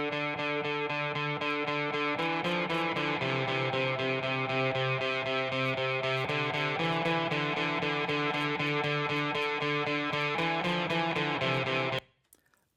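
Distorted electric guitar layer played solo, with eighth-note and quarter-note delays blended and recorded through the amplifier, ringing as a steady, loud sustained chordal part that cuts off sharply near the end, leaving brief decaying echoes.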